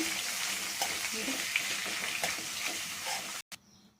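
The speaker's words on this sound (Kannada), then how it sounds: "ಉದ್ದುದ್ದ ಕಟ್ ಮಾಡಿಕೊಂಡು ಫ್ರೈ ಮಾಡ್ಕೊಳ್ಳೋಣ ಚೆನ್ನಾಗಿ" Long-cut sliced onions frying in oil in a pan, a steady close sizzle with faint stirring scrapes throughout, cutting off abruptly near the end to leave a quieter hiss.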